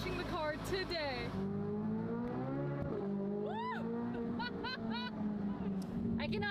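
Chevrolet Corvette Z06 engine running at a steady, throaty idle-to-cruise drone, with someone talking and exclaiming excitedly over it.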